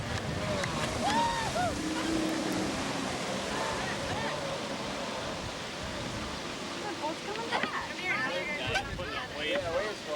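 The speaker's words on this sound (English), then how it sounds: "They're setting up waves for them." Boats on a river churn up wake waves, giving a continuous rush of water and wind noise with splashing, while people talk over it near the microphone.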